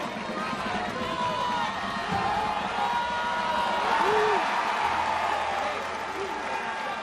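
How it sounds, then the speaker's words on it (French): A crowd at the Saint-Louis festival in Sète applauds junior tournament players, with scattered clapping and cheering rising and falling under nearby voices. "Un tonnerre d'applaudissements, allez messieurs, s'il vous plaît."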